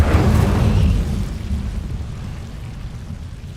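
Fire spell Incendio cast in Hogwarts Legacy on PS5: a loud roaring whoosh of flame bursts at the start, then settles into a low, crackling rumble that fades gradually.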